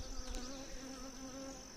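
Honey bees buzzing around a caged laying queen inside a hive during nuc installation, a steady close, droning hum of many wings with a few louder passes near the start.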